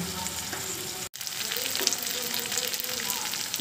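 Spice paste of ginger, cumin, chili, turmeric and tomato paste with water frying and being stirred in a pan for chicken bhuna, a steady close sizzle broken by a brief silent gap near one second, no talking.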